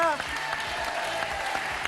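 TV game show studio audience applauding, a dense continuous clapping from a crowd with a brief tonal jingle at the start, loud and sustained throughout.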